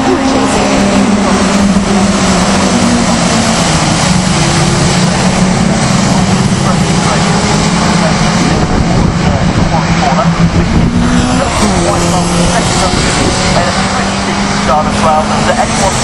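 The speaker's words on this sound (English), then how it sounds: "what a fantastic sight it is as we see this absolute swarm of Caterhams flying down the farm straight towards the S's" Caterham Seven 310R race cars racing down the straight at Castle Combe, a loud continuous swarm of engine roar that fills the whole clip, with race commentary running over it.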